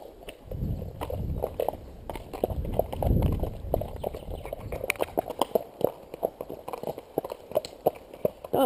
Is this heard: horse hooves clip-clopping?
yes